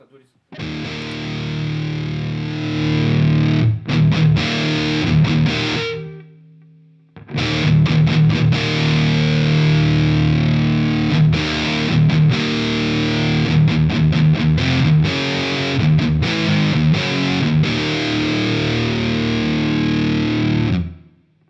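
A KMA Machines Guardian of the Wurm distortion pedal with gain maxed and other knobs at noon gives loud, heavily saturated guitar, with a short break near the middle before the fuzzy chords resume.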